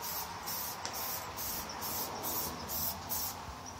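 A spray paint can lays a second coat onto an RC car body, a steady close hiss running throughout with short, regular pulses as the can sweeps back and forth.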